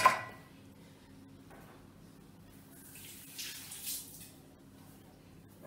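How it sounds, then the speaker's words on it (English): Water pours and splashes into tamarind juice for a rasam, a faint, soft trickling that rises and falls briefly, close by, with no talking. "Adding a bit of water for it to blend well"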